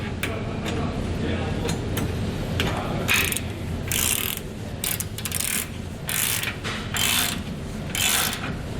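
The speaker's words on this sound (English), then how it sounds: "Now we just want to come back with a 19mm socket and snug them down." A 19mm socket ratchet snugs hex nuts with split lock washers on TorkLift tie downs fitted to a 2021 Ford F-450 Super Duty, giving repeated bursts of clicking pawl strokes in an even rhythm against steady background noise.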